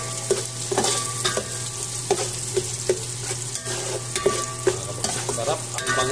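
Garlic, onion and ginger sauté in hot oil, stirred steadily with a utensil scraping the pan in repeated strokes over a constant bright sizzle.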